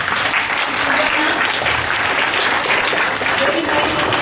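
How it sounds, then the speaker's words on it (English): Sustained, steady applause from a school audience after a class 4A assembly for French Day, loud and dense throughout with no pauses. "A big round of applause."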